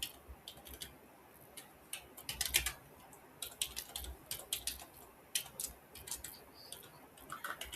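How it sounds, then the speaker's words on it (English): Quiet, light keystrokes on a computer keyboard enter a password in a Linux terminal, scattered soft ticks in irregular bursts over a faint room hiss. "type your password,"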